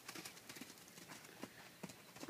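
Hooves of a ridden horse clip-clop at a walk in a steady, even rhythm, the beats moderately close but soft, with no talking over them.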